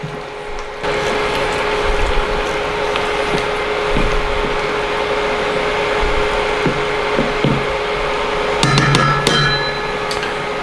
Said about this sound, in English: you can hear that whirring. Well, that whirring is the fan underneath keeping everything cool